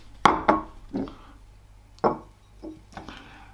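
A piece of coal dropped into a bowl, giving a sharp clack followed by several quick rattling bounces and smaller knocks as it settles, close and alone.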